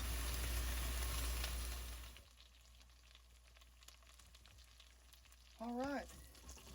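Smoked Rabideaux's sausage going into a pot for jambalaya, a loud frying hiss at first that drops to a softer, quieter sizzle with scattered small crackles, close by, with a brief tonal squeak near the end.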